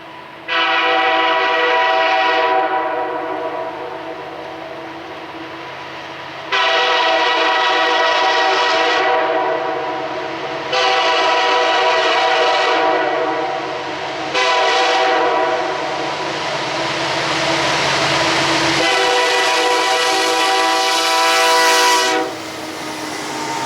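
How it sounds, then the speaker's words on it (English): A BNSF freight train led by an SD75I locomotive sounds its horn in several long, loud blasts with short breaks, the rumble of the passing train running steadily underneath. "instead of being a CN GEVO or an SD70M-2, it's an SD75I, one of my favorite types of locomotives"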